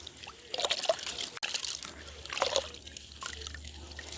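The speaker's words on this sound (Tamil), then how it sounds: "இப்போ நாங்கள் உளுந்தை கழுவி எடுப்போம்." Soaked urad dal is washed by hand in water at a village kitchen. Close, soft splashes and trickles come in uneven bursts, with light sloshing and dripping between them.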